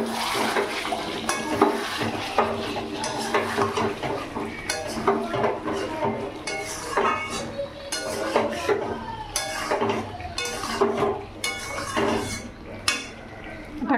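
Mutton being stirred in a pan with a utensil, a run of repeated scraping and clinking strokes against the metal over a soft sizzle, close and fairly steady throughout.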